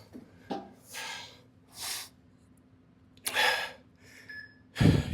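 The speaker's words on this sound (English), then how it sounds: "You should be breathing heavy, I am." Heavy gasping breaths and snorts come in several separate bursts between quiet pauses, close to the microphone, from someone in the middle of a Tabata chest, back and biceps workout.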